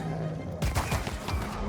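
Rapid bursts of gunfire in the fantasy role-playing video game Pillars of Eternity II: Deadfire, a quick cluster of shots starting partway through, loud over a steady background of game sound.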